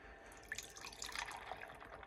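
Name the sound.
milk being poured into a cup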